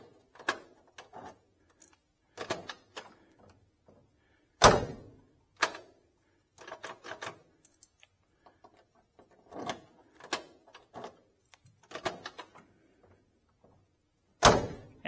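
Door locks on a 1969 Oldsmobile 442 work in a run of sharp mechanical clicks and thunks, irregularly spaced, with several heavier clunks standing out above the quieter taps.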